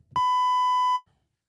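A single steady electronic beep, a pure tone lasting nearly a second, clean and loud against near silence.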